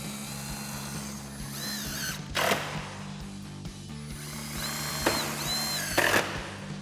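Power driver running self-tapping screws through a license plate into a 2010-2018 RAM 2500 rear chrome bumper, giving short bursts of whirring under a steady low mechanical drone.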